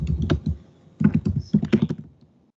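Keys clatter on a computer keyboard while text goes into MS Word, in close, uneven bursts of rapid keystrokes split by short pauses, with no talk.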